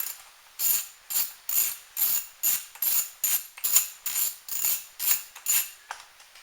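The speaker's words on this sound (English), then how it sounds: "Then there's another bolt right here. Can also be removed." A ratchet wrench works a bolt loose from a carburetor air filter box, about a dozen quick, evenly paced bursts of clicking, close and clear, with no voices.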